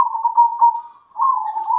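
A zebra dove coos close up in a soft, steady warbling call, pausing briefly midway before resuming.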